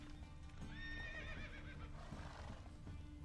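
Roach, Geralt's horse in The Witcher 3, gallops with rapid, rhythmic hoofbeats and gives a loud neigh partway through, close-up with no voices over it.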